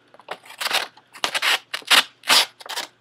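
A dull, cheap M-Tech knife rips through a sheet of paper in a series of rough, tearing scrapes, irregular bursts of ragged crackle rather than a clean slice, close and fairly loud with no speech.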